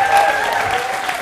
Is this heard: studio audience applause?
yes